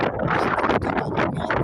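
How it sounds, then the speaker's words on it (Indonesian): Wind gusts across open grassland at Kesongo, a broad steady rush with fluttering buffets on the microphone, loud and continuous with no voices. "Di sini yang ada suara angin"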